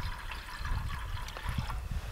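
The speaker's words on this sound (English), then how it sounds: "I start with maybe 2 cups of water in my kettle" Water pours steadily into a kettle to make cowboy coffee, a continuous close splashing trickle with no talking.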